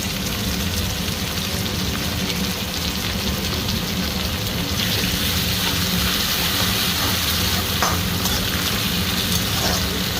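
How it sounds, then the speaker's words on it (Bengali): Onion and tomato fry with ginger garlic paste in a hot pan, giving a steady, dense sizzle that runs the whole time, with occasional scraping stirs rising above it. "পেঁয়াজ টমেটোর সাথে ফ্রাই হয়ে যাবে।"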